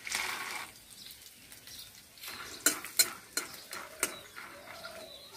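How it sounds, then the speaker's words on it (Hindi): Peanuts roast in a pan while a spoon stirs them, producing soft sizzling broken by sharp scraping knocks and clinks at irregular intervals, close and fairly quiet. "मूंगफली भूनेंगे"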